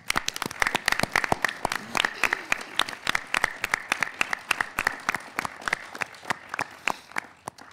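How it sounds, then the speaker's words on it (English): Audience applause and clapping for quiz show contestants, hosts and sponsors at a middle school championship semifinal held in a theater; dense, steady sharp claps fill the whole stretch with no talk. "Let's give a big round of applause for our contestants,"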